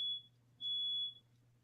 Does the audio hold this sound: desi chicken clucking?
no